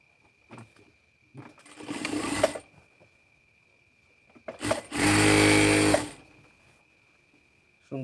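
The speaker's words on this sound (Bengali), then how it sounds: "সুন্দর করে সেলাইটা করবেন।" A domestic sewing machine stitches a salwar in two bursts, a shorter uneven run and then a steady, louder whirring run of about a second, with a faint steady hum and brief taps between, and no voices.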